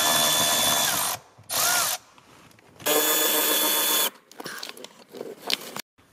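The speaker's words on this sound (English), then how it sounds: "We need to remove the nuts holding on this black box here on the driver's side. They're 10 millimeters. We'll go ahead and remove those." A power tool whirs in short bursts while removing 10 mm nuts from the driver's-side fuse box of a 2014 Chevrolet Silverado or GMC Sierra 1500 pickup, with loud spurts separated by quieter gaps and faint ratcheting clicks.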